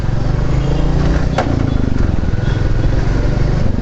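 A motorcycle fitted with an aftermarket exhaust rides along near Wayanad, a steady loud engine drone close to the microphone with wind rush and a brief high squeak midway.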